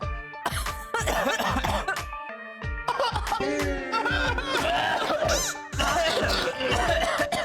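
Repeated coughing mixed with laughter and chatter, sharp bursts recurring throughout, fairly close and loud.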